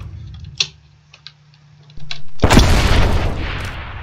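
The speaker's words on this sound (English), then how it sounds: "it's just a weak rocket launcher" A weak rocket launcher fires in People Playground, starting with a few faint ticks and taps and then a sudden loud whooshing burst that trails off in a rushing hiss.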